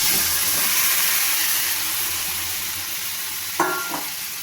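Marinated pointed gourd and potato hiss steadily in hot oil that held shrimp, close and loud throughout, with a couple of sharp spatula scrapes near the end.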